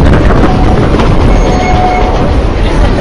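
A Durango and Silverton train rolls past close by, a loud, steady rumble of wheels and cars that continues throughout with no talking.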